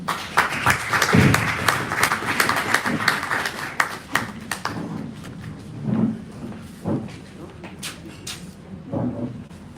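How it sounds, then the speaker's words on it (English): Audience applause at a National Breastfeeding Advisory induction and technical session, honouring the minister: dense clapping fills the first few seconds, then thins into scattered claps under a speaking voice. "I think our minister deserves another round of applause."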